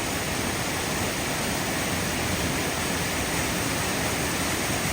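Dunn Falls in Maine pours down its big cascade as a loud, steady, dense roar of rushing water that fills the whole scene without a break.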